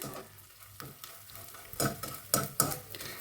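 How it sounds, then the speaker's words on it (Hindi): Edible gum (gond) frying in ghee, a steady soft sizzle with a few louder scraping stirs of a spoon in the pan toward the end, close and alone with no voices. "ये देखिए एकदम ऐसे फूल रहा है। ऐसे ही मैं सारा गोंद फ्राई कर लेती हूँ।"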